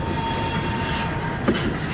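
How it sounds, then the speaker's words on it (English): A GTW L505 southbound local freight train rolls past in Port Huron, a close continuous rumble with wheel squeal and a sharp clunk near the end. "So there's 2 trains,"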